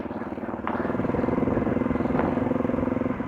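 Kawasaki KLX110 and Suzuki DRZ400 dirt bikes ride slowly through the bush, their engines putting out a steady, pulsing low-speed rumble close by with a couple of brief higher revs.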